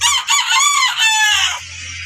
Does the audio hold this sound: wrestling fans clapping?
no